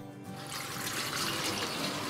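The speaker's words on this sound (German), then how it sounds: "Da kommt jetzt kaltes Wasser rein." Cold spring water pours steadily into a vat at a mozzarella dairy, a continuous rushing, splashing stream that swells slightly after the start and keeps flowing without any voices.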